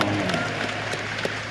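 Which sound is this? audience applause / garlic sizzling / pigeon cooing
audience applause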